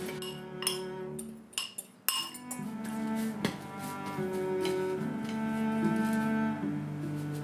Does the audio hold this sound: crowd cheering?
no